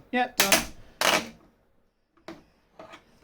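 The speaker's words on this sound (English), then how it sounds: "That is a really concerning crack noise you hear" Plastic parts of an R2-D2 model body snapping as the legs are pulled off: two sharp, loud cracks close together, then fainter clicks, with brief speech.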